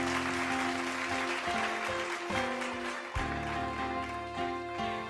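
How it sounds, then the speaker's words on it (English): Applause sound effect in a children's read-aloud story, a broad wash of clapping with a steady tone and soft musical notes running beneath it. "everybody and every bookshelf in the room burst into applause"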